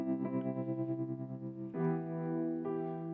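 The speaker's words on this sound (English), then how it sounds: "This next one is a tremolo control. So when you start turning up the depth, I'm sure you can hear the effect of that." Sustained electric piano chords from the AudioKit Retro Piano app pulse with a tremolo wobble in volume, played alone and fairly soft, with a new chord struck twice.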